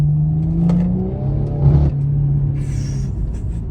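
A warm BMW engine with a manual gearbox revs up under a short pull, a rising rumble with a change into second gear midway, heard close from inside the car.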